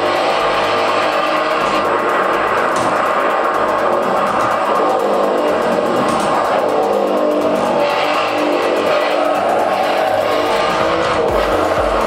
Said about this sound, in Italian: Facciamo un giro a Imola con la Giulia quadrifoglio verde.